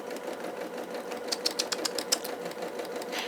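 Sewing machine stitching a quilt, a soft mechanical whir with quick rhythmic ticking that picks up into a short burst of faster stitching before settling, close but fairly quiet, with no talking.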